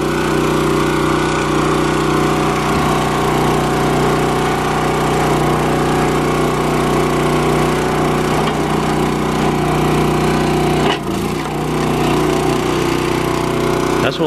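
A small log splitter engine runs loud and steady close by, a constant rumbling drone with a brief dip near the end.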